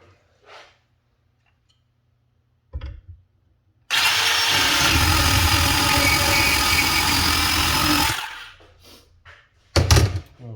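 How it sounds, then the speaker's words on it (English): A Dewalt bandsaw cuts through metal for about four seconds, a loud, steady whirring grind that starts and stops abruptly, with handling knocks and clatter before and after. "We'll do a second cut here with the Dewalt."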